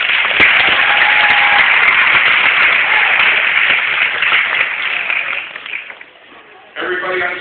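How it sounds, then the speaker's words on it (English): A hypnosis show audience claps loudly for the volunteers on stage, a dense sustained wall of applause that thins out toward the end before a voice comes in. "Big round of applause for our volunteers."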